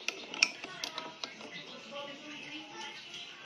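A wrench tightening the upper nut on a bicycle handlebar headset, small metallic ratcheting clicks and ticks early on, then quieter mechanical rubbing, close up and fairly faint.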